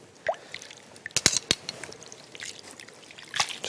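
Blanched bean sprouts, cooled in cold water, drain in a strainer with scattered drips and small trickles, plus a few sharp clicks and shuffles.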